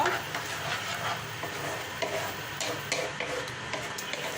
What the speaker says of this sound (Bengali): আমি নাড়তে থাকবো, ঘন ঘন নাড়তে হবে, নাহলে তলায় লেগে যেতে পারে